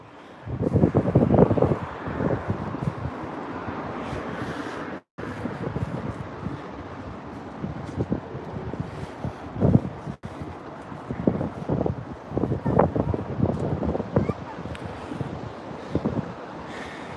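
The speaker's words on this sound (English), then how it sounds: "the wind is too strong, so forget it" Strong wind buffets the microphone on a Tokyo street, a steady loud roar with rumbling gusts throughout and a brief dropout partway.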